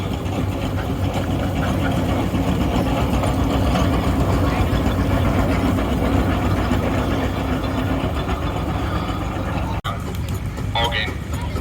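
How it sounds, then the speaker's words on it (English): A large single crank compound steam engine at a steam rally chugs steadily and loudly on grass throughout, a continuous low mechanical rumble with a brief click near the end. "This one is a single crank compound engine."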